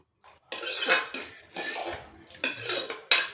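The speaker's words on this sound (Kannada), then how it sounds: "ಇವಾಗ ಕುಕ್ಕರ್ನ ಓಪನ್ ಮಾಡ್ತಿದ್ದೀನಿ ಎಲ್ಲ ಚೆನ್ನಾಗಿ ಬೆಂದಿದೆ ಅದನ್ನ ಮಿಕ್ಸ್ ಮಾಡ್ಕೋತಾ ಇದ್ದೀನಿ" Cooked brinjal and lentil curry stirred with a metal spoon in an opened pressure cooker: several close scraping, clinking bursts of metal on metal, separated by brief pauses, with no voices.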